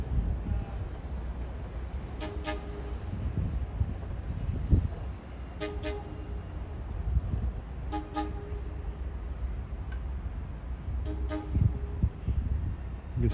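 A subway train bound for Oak Grove rolls through the station, its AA2 horn giving four short, evenly spaced toots over a constant low rumble and background noise.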